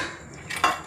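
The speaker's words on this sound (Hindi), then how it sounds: "कुकर का ढक्कन बंद कर देंगे और दो तीन सीटी आने तक पकाएंगे।" A quick metallic clank of a pressure cooker lid fitting onto the cooker, with a short ringing scrape at the end.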